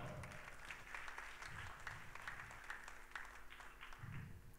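Applause from a church congregation during a sermon, a steady wash of many hands clapping at a distance, faint and even, with brief low voice murmurs.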